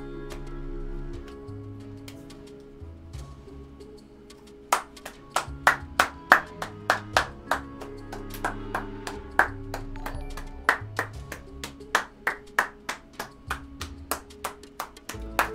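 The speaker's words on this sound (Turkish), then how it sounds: "Biraz daha, biraz daha alkışlayalım." Clapping heard during Supraland gameplay, starting after a quiet stretch with distinct, sharp claps in a loose rhythm that grows denser, alone without talk.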